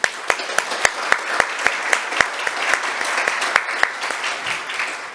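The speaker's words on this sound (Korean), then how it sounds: "우리 다시 한번 큰 박수 한번 부탁드립니다." Applause from the audience at a green building awards ceremony, steady clapping with individual claps standing out sharply over the dense patter, lasting the whole stretch without talk.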